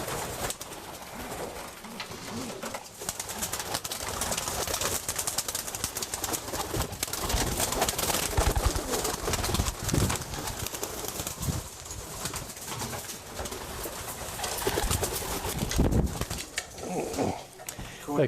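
Racing pigeons at the loft fill the scene with a dense, continuous wash of cooing, fluttering and wing noise, close and busy throughout, with a person's voice occasionally audible beneath.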